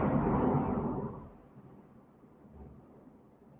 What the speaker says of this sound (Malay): bunyi petir kuat ya?